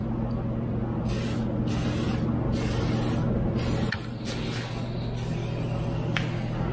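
Bursts of aerosol spray as chassis saver paint is sprayed onto the frame and floor of a 4th gen Toyota 4Runner, several short hisses in a row over a steady low hum.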